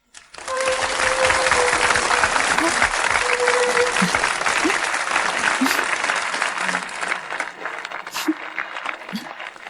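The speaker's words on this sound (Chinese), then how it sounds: "现在，让我们用热烈的掌声欢迎诺贝文学奖的获得者郑天爱女士。" An audience breaks into warm, sustained applause welcoming a Nobel literature laureate at a ceremony. Dense clapping starts abruptly, holds strong and even for several seconds, then slowly thins toward the end.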